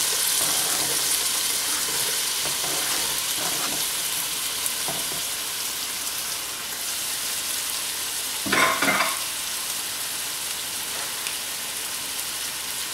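Chopped onions frying in a hot pan for beef stroganoff, a dense, steady sizzle like rain on a surface, close and loud, with a brief louder crackle midway and no talk.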